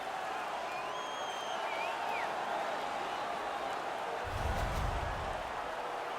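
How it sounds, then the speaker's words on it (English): Home crowd cheering in an NHL 19 hockey video game after a fight, a steady roar that swells into a louder burst of cheering and applause near the end, with faint whistles above it. "The home crowd is ecstatic. They're making all kinds of noise."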